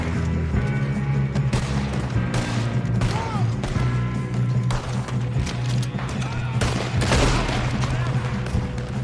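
Gunfire in Red Dead Redemption 2: repeated loud, close shots cracking out in an irregular fusillade across a western firefight, with shouting voices under the steady din.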